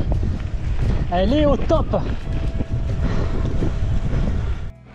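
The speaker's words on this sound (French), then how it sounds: "Un petit peu de vent quand même" Wind on an outdoor bike ride at sunset, a steady low buffeting rush across the microphone, loud and constant, with a brief voice speaking partway through.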